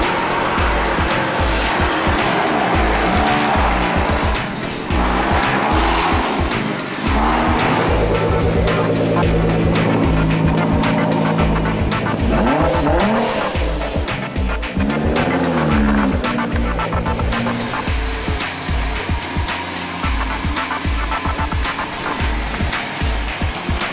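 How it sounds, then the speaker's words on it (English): Supercars roll onto the rally grid the day before a Copenhagen-to-Monaco rally, loud engines revving and roaring up close with tire squeals, a continuous dense mix of passing cars throughout. "Day before the rally starts, and the cars are just arriving here on the grid."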